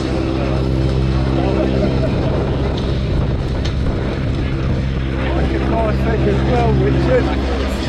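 A Boeing Model 75 Stearman biplane from 1943 flies at an airshow, its piston engine a steady, loud drone throughout with wind buffeting the microphone and voices talking over it.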